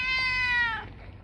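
A single drawn-out meow from a cat, close and clear, holding for most of a second before trailing off into quiet room noise.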